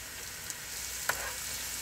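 Chopped garlic frying in a pan for tomato achar gives a soft, steady sizzle with a faint hiss and one brief clink partway through.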